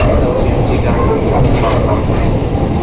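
A KRL commuter train runs from Pondok Ranji station, a loud steady rumble and rolling rail noise heard from onboard, continuous throughout.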